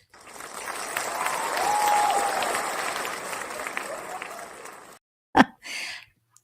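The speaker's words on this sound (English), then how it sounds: "I need to do the one with the clapping." An applause sound effect is played back: a steady wash of crowd clapping swells and holds for several seconds, then cuts off abruptly and is followed by a couple of short, sharp noises.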